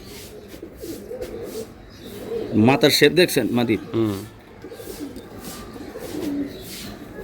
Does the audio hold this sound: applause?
no